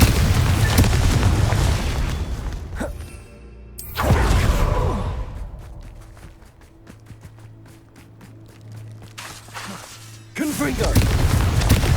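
Fiery spell blasts from Hogwarts Legacy burst out in loud booming bursts, with a quiet lull between them and a steady hum beneath, ending in another loud blast.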